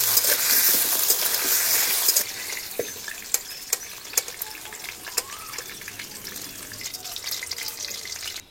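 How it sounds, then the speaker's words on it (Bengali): Potato pieces sizzle and crackle in hot oil in a pan, a steady hiss with scattered sharp pops and clicks from stirring, louder at the start and then settling. "আমি এখন আলুটা ভেজে নিচ্ছি, তেল গরম হয়ে গিয়েছে।"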